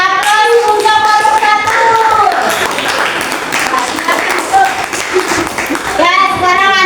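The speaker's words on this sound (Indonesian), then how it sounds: "Beri aplaus untuk nomor" Classroom audience clapping for group one's presentation, a dense spread of hand claps mixed with children's voices and chatter, with lively speech running across the whole stretch.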